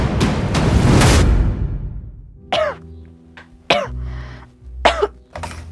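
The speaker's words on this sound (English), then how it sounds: "Is your cough getting worse?" A young girl coughs in a few sharp, separate bursts with short gaps, loud and close, and something rustles before the coughs.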